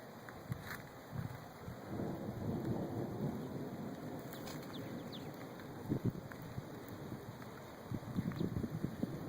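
Summer monsoon thunderstorm: steady rain patters outdoors while deep rolls and cracks of thunder rumble intermittently, with a sharper burst near the end.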